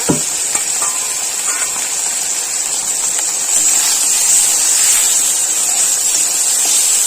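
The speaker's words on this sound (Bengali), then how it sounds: "লাটা মাছ একটু ভালোভাবেই ভেজে নিতে হবে" Lata fish sizzles in hot oil in a village kitchen: a steady, bright frying hiss fills the whole stretch, with a sharp clatter at the start and the sizzle swelling slightly louder toward the end.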